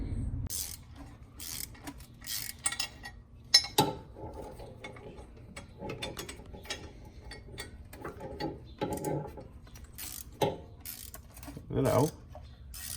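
Ratcheting wrench loosening exhaust manifold bolts on a Dodge Challenger R/T, close by: bursts of quick clicking ratchet strokes and metallic clanks separated by pauses, fairly quiet.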